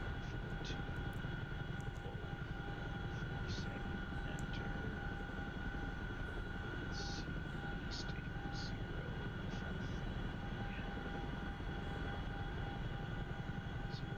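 Steady droning aircraft engine roar in the DCS flight simulator, a continuous even hum with faint talk over it and no clear surge of afterburner.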